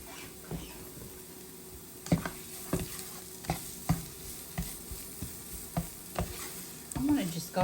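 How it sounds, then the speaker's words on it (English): Burger patties fry with onions in a pan, a soft sizzle under repeated scraping and stirring taps from a utensil at a close, moderate level. "I'm going to just go ahead and add these patties in here with these onions."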